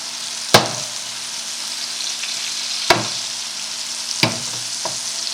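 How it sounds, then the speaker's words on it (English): Continuous loud sizzling of scallops frying in hot butter and oil, with a few sharp clanks of a utensil against the pan. "the scallops are sizzling because that butter and hot oil is reaching into it"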